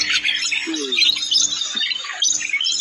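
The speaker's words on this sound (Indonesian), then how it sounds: "Oh, burung" A red lory, a nuri parrot, gives a string of harsh, close squawks and chirps, loud and repeated, with no talking over it.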